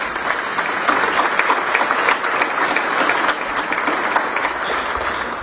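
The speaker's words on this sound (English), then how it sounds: "I want to give our trade office a round of applause." A crowd at the Border Security Expo applauds the trade office, with steady, dense clapping that holds at a fairly loud level throughout.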